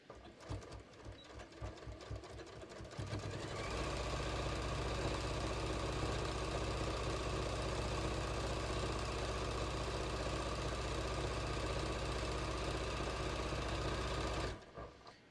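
A sewing machine quilting a beach tote runs in one long steady burst, a fast even mechanical whir with a low hum that starts after a few softer stitches and stops abruptly near the end.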